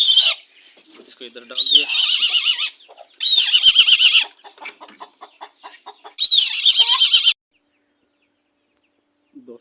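Hens in a coop give loud, close, agitated clucks and squawks in several bursts, with a voice speaking briefly between them, then silence at the end.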